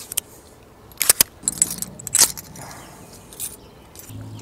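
Keys on a self-defense keychain jangle in a few short, bright bursts against a quiet background, with no talking.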